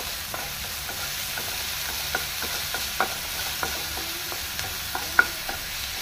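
Tomatoes and onions with salt cooking in a pan, a soft low sizzle under a series of light clicking taps and stirs from a utensil against the pan.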